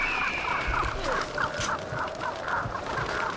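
Crows cawing in the video game Vampire The Masquerade Bloodlines, a steady run of about a dozen short harsh calls repeating over a constant ambient hum, with no talking.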